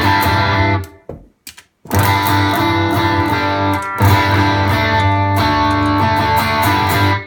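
Electric guitar played through a high-gain patch with the gain near maximum and a volume boost: loud, close, distorted sustained chords, with a brief near-silent break early on before the playing resumes.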